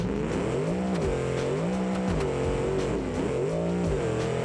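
A methanol-fuelled, radiator-less drag racing truck in BeamNG launches and revs hard in rising and falling surges, the engine loud, close and continuous, with no talking over it.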